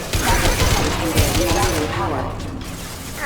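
Rapid gunfire bursts from the video game Mass Effect 2, loud and dense throughout a combat firefight, mixed under shouted voices.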